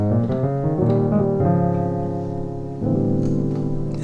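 Sustained keyboard chords with a Phrygian-voiced major sound resolving toward C, each held for over a second and shifting in turn, full and close with no talking.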